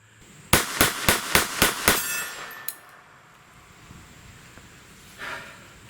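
Six rapid gunshots from a Jennings Bryco pistol crack close and loud in an evenly spaced burst, each ringing briefly, followed by quiet and a faint later noise.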